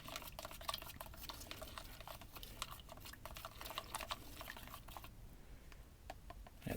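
Black paint mixture stirred by hand for a diorama black wash, a faint, rapid run of small ticking and scraping clicks that thins out briefly before resuming.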